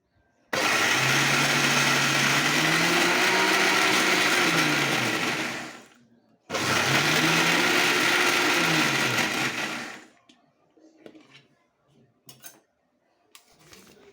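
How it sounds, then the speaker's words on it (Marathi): A kitchen mixer grinder coarsely grinds soaked lentils for traditional mixed-dal vadas in two loud, continuous whirring runs with a short pause between, then stops, leaving faint clinks and knocks. "डाळ मी आता मिक्सरमध्येच दळून घेणार आहे"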